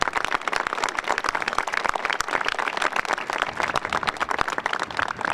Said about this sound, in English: Please give all of our partner organizations a round of applause.